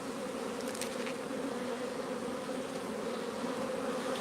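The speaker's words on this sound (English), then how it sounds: "This hive is getting stronger." Honey bees hum and buzz steadily at a beehive, a dense, even drone close by with no voices.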